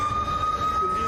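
An ambulance siren wails on a single sustained tone, loud and fairly close, with a low rumble of traffic underneath.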